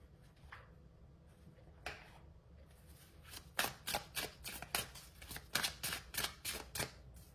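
Tarot cards drawn from a deck and laid out one by one for a weekly sagittarius reading, making a run of crisp, close card snaps and slides in an uneven rhythm that grows busier midway, with no voices.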